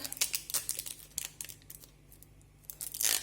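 Cheese packaging being torn open in a kitchen while sandwiches are made, with close, faint plastic tearing and crinkling in short irregular bursts, louder at the start and end.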